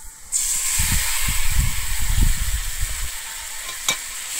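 A loud sizzle and hiss of ground pointed gourd paste frying in a pan starts abruptly, with stirring and scraping sounds, close by.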